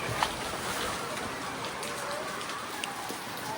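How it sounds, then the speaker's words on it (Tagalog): Light drizzle falls steadily outdoors, a soft even patter with a few sharper drops standing out, heard alone without talk. "Naambon na."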